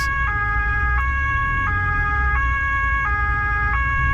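A loud wailing German police car siren alternating between two pitches at a steady rhythm, close by and continuous, during a high-speed emergency response on the Autobahn, with road noise underneath.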